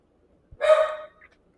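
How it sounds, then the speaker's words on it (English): A dog gives one loud, sharp bark from fairly close by, a single burst standing alone in an otherwise quiet room. "I said the word DP videos, and that dog freaked out"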